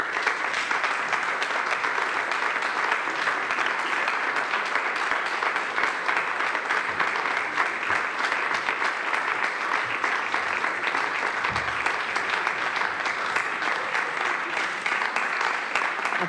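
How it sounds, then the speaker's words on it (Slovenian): Sustained, even applause from a theater audience at the Cankar Prize ceremony honoring poet Barbara Korun, a dense continuous patter of many hands clapping for over fifteen seconds with no talk. "Aplavz za Barbaro Korun, letošnjo Cankarjevo nagrajenko."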